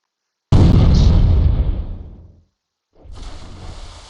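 A cannon tower firing in the video game Port Royale 2: a sudden loud blast that decays over about two seconds, then after a brief silence a second, quieter rumbling burst.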